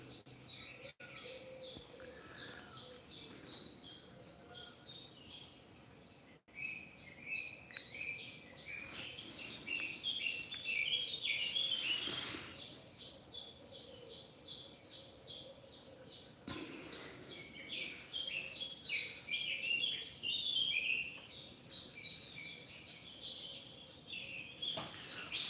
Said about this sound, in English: the birdsong's probably not appropriate for an Ecuadorian cloud forest